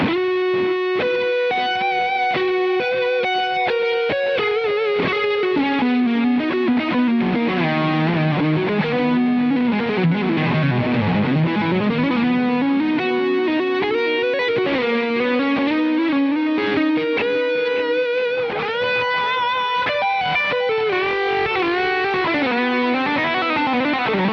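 A distorted electric guitar plays a sustained, singing lead melody with bends, a tone from a Fractal unit, washed in reverb, continuous and loud throughout.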